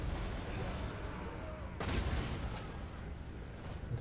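Massed troops firing volleys at a fortress gate during a siege battle in Total War: Warhammer 2: faint, distant, crackling gunfire that rolls on steadily, with one stronger burst midway.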